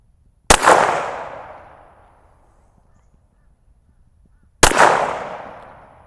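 Two sharp, loud pistol shots from a Canik TTI Combat fire about four seconds apart, each with a long decaying echo trailing into quiet.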